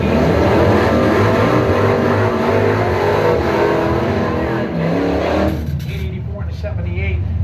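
Chevy and Mopar drag cars accelerate down the strip at a Mopars Against the World bracket race, a loud sustained engine roar that fades near the end under an announcer's commentary.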